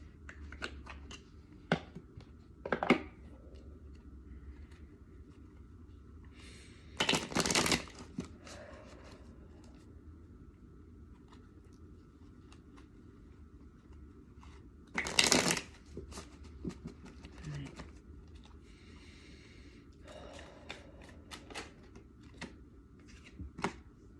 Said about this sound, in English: I'm going to take a couple of cards from the Rider-Waite Tarot.